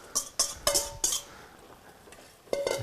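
Metal utensil clinking and scraping against a pan while stirring beef stroganoff with onions, mushrooms and nutmeg, four or five sharp close knocks in quick succession, a pause, then one more clatter.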